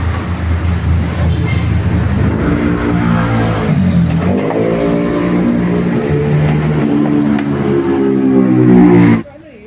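A Honda PCX 160 scooter with an oil leak at the water pump revs loudly and close by. A steady drone climbs into rising revs, holds high, then cuts off abruptly.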